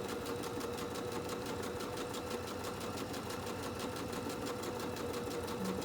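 A sewing machine stitches a fabric holiday ornament slowly and evenly, its needle tapping in a fast, steady rhythm over a constant motor hum, close and alone without speech.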